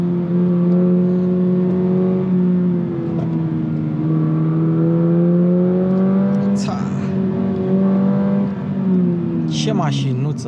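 A new Subaru BRZ sports car is driven along a narrow road, its engine droning loudly and steadily close by, with the pitch rising and falling as it revs, and someone talks over it.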